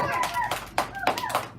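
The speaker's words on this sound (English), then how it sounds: "Give them a round of applause." A classroom of young children applauding their classmates, a short burst of scattered hand claps up close with children's voices talking over them.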